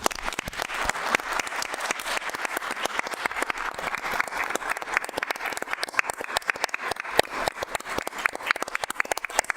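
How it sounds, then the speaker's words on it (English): Audience at a city council meeting gives a round of applause after a vote, a crisp flurry of many individual hand claps in a fairly small room, continuous and lively for nearly ten seconds. "We're going to give you guys a round of applause."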